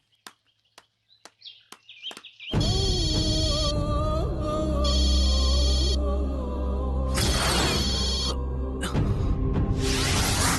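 A telephone rings during a Tamil TV serial scene, a repeating electronic ringtone that follows a few sharp taps, close and loud, with bright musical tones layered over it and no talk.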